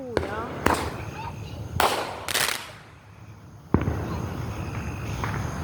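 Backyard fireworks shots go off one after another, several sharp cracking bangs spaced irregularly over a few seconds, with outdoor crowd noise and people talking and exclaiming between the blasts.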